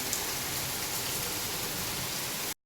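Steady heavy rainfall during the rainy season, a dense continuous hiss of drops on surfaces, close and fairly loud, alone with no voices until it cuts off abruptly at the end.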